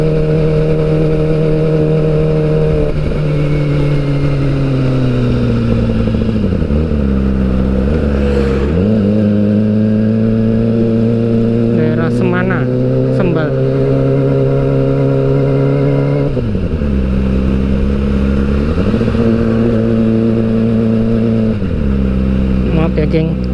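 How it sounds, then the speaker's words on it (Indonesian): Kawasaki ZX-25R motorcycle exhaust while touring through Bali, a loud, constant high-pitched engine wail that climbs and drops with gear changes and throttle, with a voice occasionally heard under it. "suara knalpotnya bikin budek."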